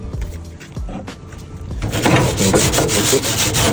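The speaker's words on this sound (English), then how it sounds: "That's one thing we can do is clean these grates." Metal grill grates being scraped and cleaned over a wood fire before cooking chicken drumettes, a few soft scrapes at first, then steady, loud rasping strokes close by.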